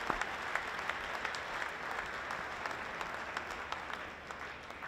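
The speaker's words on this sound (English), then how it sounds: "let's give another big round of applause for all of the dreamers in this room" Audience applause at an awards gala, a large crowd clapping in a steady, dense roll that carries evenly through the whole stretch without any talk.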